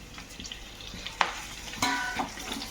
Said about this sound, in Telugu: సో నెయ్యి లైట్ హీట్ అయినా పర్లేదు. సో మెంతి కూరకు వేసుకుందాం.